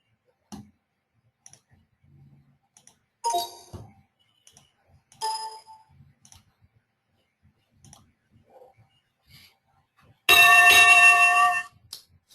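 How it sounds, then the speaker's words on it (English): Stock market opening bell sounding from trading software at 9:15, a bright ringing burst under two seconds near the end, preceded by scattered soft mouse clicks in an otherwise quiet room. "So that's the bell for the opening."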